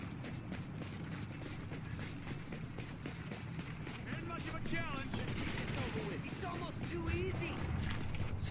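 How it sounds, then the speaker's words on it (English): Gunfire crackles through a firefight in The Division, rapid shots and automatic bursts running steadily under in-game voices and talk, fairly faint overall with sharper clusters toward the end. "Somebody was shooting at them."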